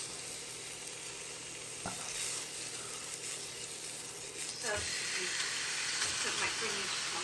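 A steak sizzles and fries loudly in a hot pan, a constant dense hiss that goes on throughout with a few faint clinks over it.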